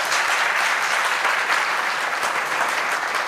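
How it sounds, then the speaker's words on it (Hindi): Steady, dense applause from a seated audience at a religious discourse in India, continuous and loud throughout with no pauses. "ताली तो बजा दिया करो भाई"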